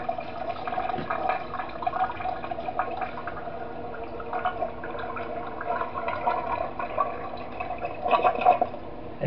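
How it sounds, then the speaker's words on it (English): A toilet flushes in the video game Five Nights at Wario's 3, a long, steady rush of swirling water, with gurgles and splashes and a louder surge near the end. "the toilet flushing in this the toilet in this game has a longer flush sound"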